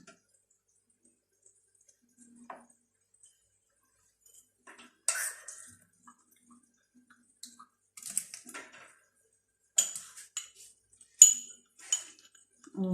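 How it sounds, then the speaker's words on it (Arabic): A spoon stirs a homemade cold-and-fever remedy mixture after water is added, giving sparse, light clinks and scrapes against the container, separated by quiet gaps and growing a little busier toward the end. "ونزيد نحرك"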